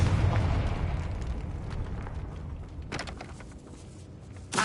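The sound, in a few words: Confringo spell explosion in Hogwarts video game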